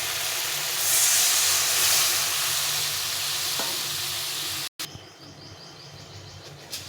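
Water poured onto fried spice paste for a patol bahar curry, a loud broadband sizzle and steamy hiss that cuts off abruptly, then a quieter, lingering simmering crackle.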